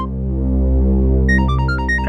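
A mobile phone ringtone starts up partway through, with a rapid sequence of bright electronic notes over a low steady hum.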